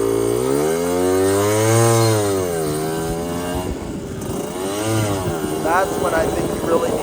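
A 1988 Yamaha DT50LC two-stroke motorcycle revs on a summer night ride, its buzzing engine pitch climbing and falling in sweeping waves, loud and close, with a rider speaking over parts of it.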